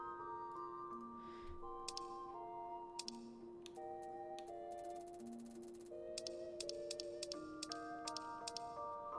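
Mouse clicks and keyboard key presses while playing Final Fantasy XIV, quiet and close, with irregular light ticks and short flurries of tapping over soft game music, with no talking.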